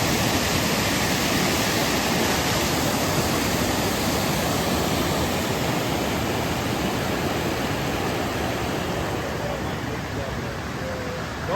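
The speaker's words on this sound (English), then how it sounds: "it looks like this water up here on top is flowing uphill." Water rushing down a stream beside the Appalachian Trail near Burks Garden, a loud, steady broadband roar of flowing water that fills the whole stretch without pause.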